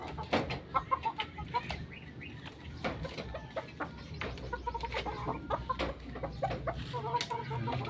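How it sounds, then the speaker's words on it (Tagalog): Chickens cluck repeatedly in short, scattered bursts, some close and some farther off, with occasional wing flaps and a low background rumble. "Ito mga manok, malalaki na."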